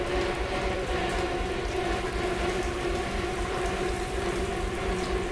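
Blood rains in a horror video game, The Park, as a steady, dense patter like heavy rain. It holds at an even level throughout with no voices.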